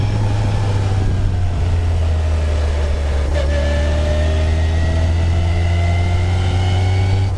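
Striker 240S sports car with a Toyota 20-valve four-cylinder engine, revving hard and loud with a steady droning tone and rising, shifting pitch throughout.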